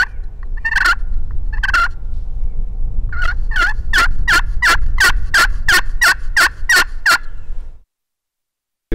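A turkey pot call imitates hen yelps: two separate yelps, then a rapid, evenly spaced series of about a dozen loud, raspy notes before falling silent.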